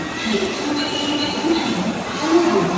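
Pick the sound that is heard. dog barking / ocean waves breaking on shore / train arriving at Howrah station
train arriving at Howrah station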